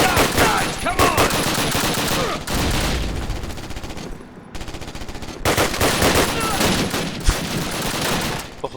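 Sustained machine-gun fire from a Call of Duty game rattles in dense, loud bursts with only a brief lull partway through, and no voices are heard over it.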